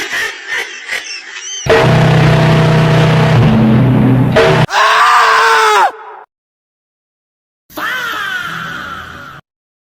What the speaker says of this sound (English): Which scream is the best? With different sound effects.